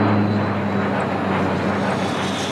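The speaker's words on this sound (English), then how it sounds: "we have airplanes come over all day and disturb us" A fixed-wing airplane passes over the island of Sark, a steady loud engine drone with a broad rushing roar and a low hum, close and continuous with no speech.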